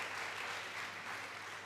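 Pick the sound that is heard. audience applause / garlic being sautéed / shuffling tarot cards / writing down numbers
audience applause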